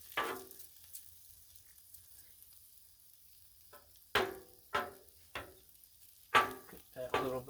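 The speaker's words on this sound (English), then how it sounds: "Get that little bit of sear on the rice that we love." Shrimp fried rice on a Blackstone griddle: a faint low sizzle underneath, broken by several sharp metal spatula scrapes and taps in quick bursts toward the end, close by.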